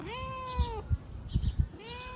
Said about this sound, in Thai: คือแมวนะครับ